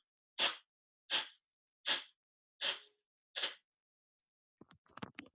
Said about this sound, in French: C'est comme des à-coups d'expiration par le nez.